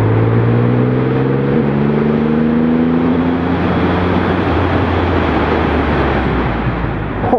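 Triumph Rocket 3R motorcycle engine heard loud and close, its tone sliding steadily down as the bike slows under braking, then settling into a rough, broad rumble with wind roar.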